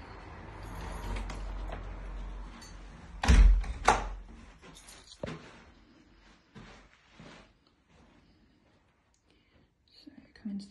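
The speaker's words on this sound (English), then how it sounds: "We shut the door." A door is shut in an empty rental house during a viewing, a couple of sharp thuds standing out over quiet hushed talk and faint room noise.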